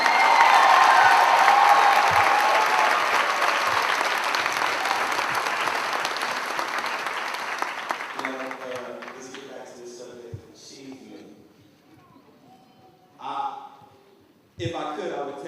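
An audience at a school event honoring students applauds loudly for about eight seconds, the clapping fading out before a voice speaks through a microphone.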